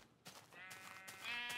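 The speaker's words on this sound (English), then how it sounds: "And there's a sheep. Hi, sheep." A sheep in a video game bleats, a short wavering cry about a second long that rises at the end, heard alone at moderate volume.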